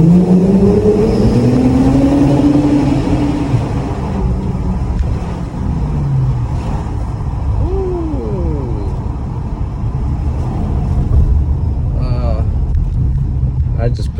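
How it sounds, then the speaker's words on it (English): Car engine accelerating in a snowstorm as the driver presses the gas, a steady engine roar with rising and falling pitch sweeps beneath ongoing talk. "I just pushed the gas."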